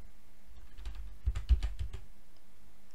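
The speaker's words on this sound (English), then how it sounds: "So to do that, just type CLS" A handful of quick keystrokes on a computer keyboard typing the short CLS command, a close, crisp burst of clicks lasting about a second in a quiet room.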